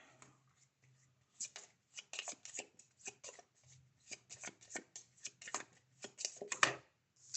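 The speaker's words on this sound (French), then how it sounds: "Je vais mélanger ceci." Tarot cards are shuffled close by in quick riffling bursts of soft papery slaps, with a few brief pauses between them.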